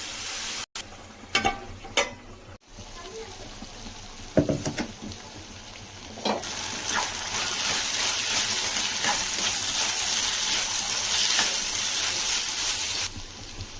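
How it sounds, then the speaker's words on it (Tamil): Capsicum sizzles and hisses in a hot pan, a few clanks and scrapes of stirring early on, then a steady frying crackle that continues alone. "கொஞ்சம் தண்ணி ஊற்றிட்டு கொஞ்சம் வதக்கி மூடி வச்சிடலாம் வேகிற வரைக்கும்."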